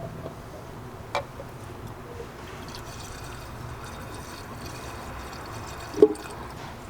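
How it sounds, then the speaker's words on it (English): Liqui Moly engine flush trickles quietly into the engine of an e46 M3, a faint continuous pour with a couple of brief clinks against the filler. "So what we have to do with this engine flush is just pour it into the engine."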